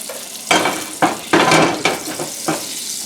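Butter and olive oil sizzling in a hot cast iron skillet, with loud repeated bursts of frying and crackle, as if stirred or moved, over a steady low sizzle.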